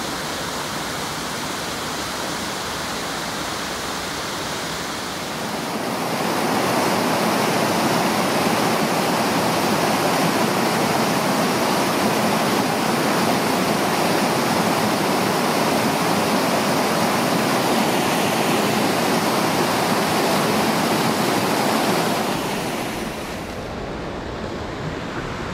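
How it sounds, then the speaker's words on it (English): Steady, loud rushing of water pouring down a slide waterfall on a creek, a constant broadband roar that swells after a few seconds and stays unbroken before easing. "Bit of a slide waterfall below us."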